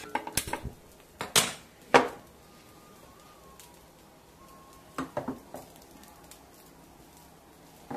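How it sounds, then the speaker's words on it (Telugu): A metal pot of clams set down on a kitchen stove, with a few sharp clanks and scrapes in the first two seconds, a quiet stretch, then another cluster of lighter knocks near five seconds. "ఇప్పుడు దీన్ని స్టవ్ మీద పెట్టేసుకుందాం."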